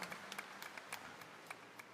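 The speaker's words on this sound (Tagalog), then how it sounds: "bigyan natin ng palakpak ng papuri at pasasalamat ang ating mahal na pong Jesus Nazareno" A church congregation applauds for Jesus Nazareno, soft scattered clapping heard from a distance, fairly faint and continuous.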